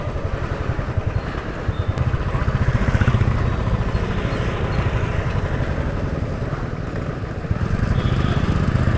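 Motorcycle ridden at night through a small city, the engine thrumming steadily with a low rumble and occasional shifts in throttle, close and continuous under wind noise, with no talking.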